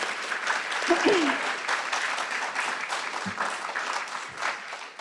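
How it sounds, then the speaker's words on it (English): Audience applause at a university physician assistant hooding ceremony: steady clapping from a seated crowd for about five seconds, fading slightly at the end, with a brief voice or murmur near the start. "I will give you a little round of applause"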